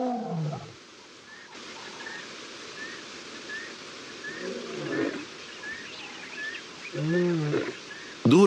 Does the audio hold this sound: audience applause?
no